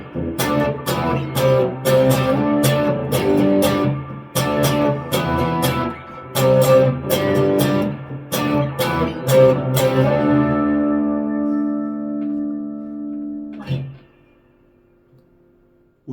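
Electric guitar plays the power-chord intro, loud, rhythmic chord stabs in bursts, ending on a long sustained chord that rings out and fades near the end.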